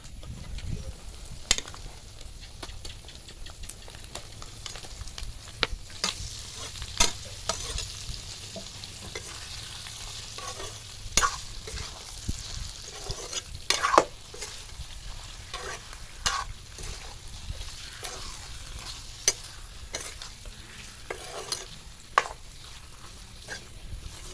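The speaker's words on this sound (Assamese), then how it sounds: "এইফালে এতিয়া অলপ লৰাই দিওঁ মাংসখিনি, অলপ ভালদৰে সিজাই লওঁ" Pork sizzles and fries in a pan while being stirred, the spoon scraping in irregular clinks over a soft, continuous frying hiss, fairly quiet and close.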